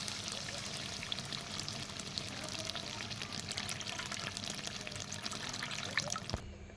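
Water is poured into a pan of potatoes and oil while chicken curry cooks, giving a steady, close splashing pour for about six seconds that stops abruptly.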